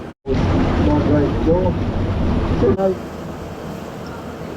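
A boat moves over the water at Surfers Paradise on the Gold Coast, with a steady rush of water and heavy wind buffeting the microphone. Voices can be heard faintly over the noise.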